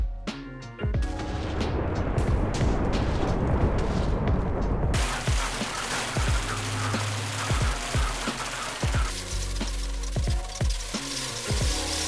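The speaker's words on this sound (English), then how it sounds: "Gerald is sending an asteroid down to Earth." A giant asteroid strike in Minecraft with HBM's Nuclear Tech Mod erupts as a loud, sustained roaring explosion, with a rumbling blast that swells into a dense wall of crackling debris and repeated heavy booms, no voices.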